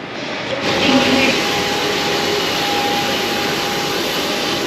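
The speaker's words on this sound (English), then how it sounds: "There's our plane going to Samoa." Jet airliner bound for Samoa, heard at the airport as a steady, broad engine roar that swells early and then holds at a constant level.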